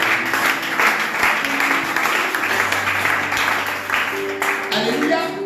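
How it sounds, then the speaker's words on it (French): A church congregation applauds and cheers for Jesus during a French-language sermon on giving thanks to God; steady, dense clapping fills the whole stretch, with voices calling out and a sustained musical tone underneath. "Acclamez Jésus pour ça"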